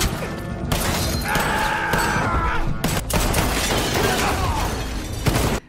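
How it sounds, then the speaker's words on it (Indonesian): A dense, chaotic shootout with guards around an office erupts in continuous loud bursts of overlapping gunfire, crashes and impacts, packed tightly together for several seconds before cutting off abruptly. "Terjadilah adu tembak dengan para penjaga di sekitaran kantor."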